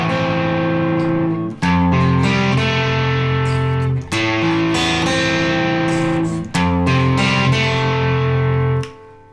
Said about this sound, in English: Let's start with the main riff that goes through most of the song.